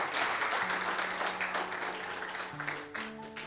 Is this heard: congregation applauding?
yes